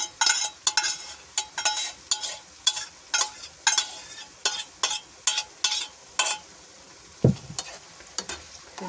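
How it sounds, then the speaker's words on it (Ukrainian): A pan of grated tomatoes fries with a soft sizzle while a spoon stirs it in a steady rhythm of about fifteen short scraping strokes. A single low knock sounds near the end. "Мішаємо, хай трішки висмажиться"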